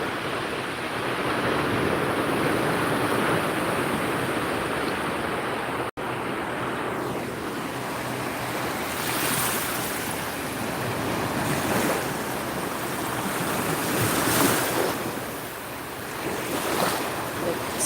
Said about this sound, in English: The waves aren't nearly as aggressive as they were.